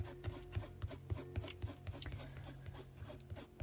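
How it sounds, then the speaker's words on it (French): A pencil scratches rapidly across paper while drawing a wood-grain effect, making a close, dense, rhythmic rasping with regular strokes, quiet and continuous. "c'est étonnant, ça gratte vachement là"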